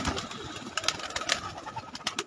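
Champion pigeons coo in a steady low murmur close by, with a few sharper rustles or wing flaps breaking through the busy, continuous background.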